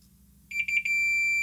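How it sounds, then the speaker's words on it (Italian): A multimeter set to continuity mode beeps as one probe touches the ground point on an IR receiver board. A few quick close pulses run straight into a steady, loud, high tone over a low hum. "mettere il tester in bip, cicalino, e possiamo mettere un puntale su massa"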